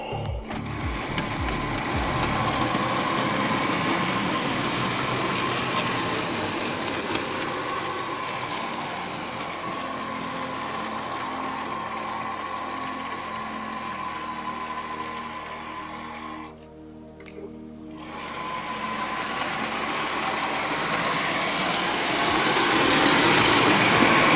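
A small HO scale model train runs steadily along its track with a continuous close whirring rumble, briefly quieting near the end before the motor noise returns.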